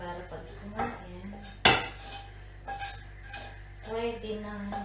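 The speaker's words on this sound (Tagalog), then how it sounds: "Lalagay ko na po sa mga pinggan-pinggan po namin kasi para pag kumain" Plates and cutlery clinking as they are set out for a meal of Filipino tortang talong in a home kitchen: scattered clatters with one sharp crockery knock midway, under a voice talking.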